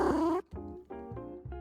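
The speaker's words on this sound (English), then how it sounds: "Kitty." A cat in the Judge Simulator video game makes a close, rumbling, purring sound broken into four short pulses of low tone, with no talking.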